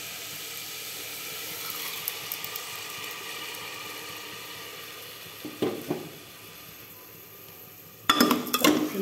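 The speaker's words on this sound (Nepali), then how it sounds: "एकछिन फ्राई हुन दिने एकैछिन" Red lentils (masoor dal) fry in a pan for a Nepali-style jaulo. A faint, steady sizzle runs throughout, broken by a few sharp clinks of a utensil against the pan near the middle and end.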